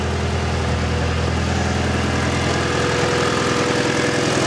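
A Honda CRX with a B16A1 engine idles smoothly after an exhaust manifold repair, a loud, steady, close-up rumble with no voices.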